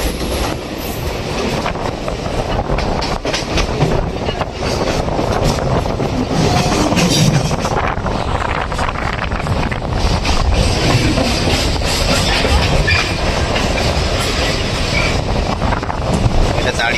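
A local train runs on the Howrah to Panskura line of South Eastern Railway, a loud steady rumble with clattering wheels and rushing wind, constant and close throughout.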